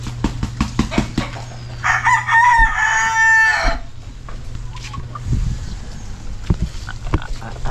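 A rooster crows once, loud and close, a drawn-out call rising and falling over a couple of seconds, amid clicks, thumps and a steady engine hum.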